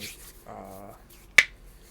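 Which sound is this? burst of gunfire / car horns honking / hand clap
hand clap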